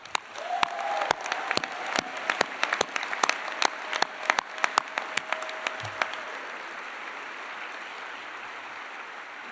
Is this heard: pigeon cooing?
no